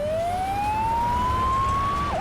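A single rising siren wail from a toy ambulance in a Playmobil city scene, sweeping upward then dipping at the end, clear and steady over a low background hum with no talking.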